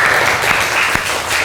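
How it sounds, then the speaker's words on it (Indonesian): Classmates clap in a classroom during a teaching performance test session, a short burst of dense, steady applause that fills the room at close range. "Wih, ini tepuk tangan."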